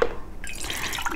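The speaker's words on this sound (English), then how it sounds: "clean pretty much the can with a little bit of water." Water is poured into an emptied can of Rotel tomatoes and peppers to rinse it, heard as a short splashing, dripping pour after a brief quiet start, close up and alone.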